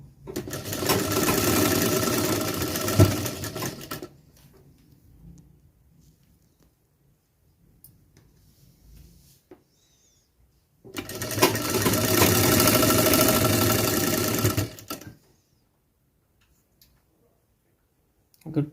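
A tailor's sewing machine runs a line of stitching over an existing seam in two steady, close bursts of rapid mechanical ticking, separated by a quiet pause with faint handling noise.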